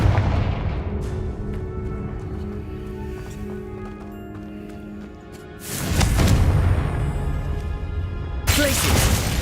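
Confringo fire spell in Hogwarts Legacy, heard as a rumbling, booming blast over a dense game soundscape, with a second bright burst of roaring impact near the end.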